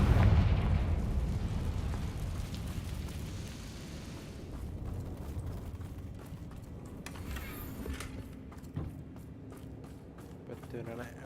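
Fiery Confringo spell blasts in the Hogwarts Legacy video game, a heavy booming burst at the start that trails into a rumbling, crackling tail with smaller pops later, with game sounds and a voice underneath.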